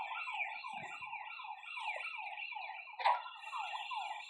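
A police siren in a prison escape video game wails in a repeating rising and falling pattern, steady and moderately loud, with a brief sharp knock midway and no talking.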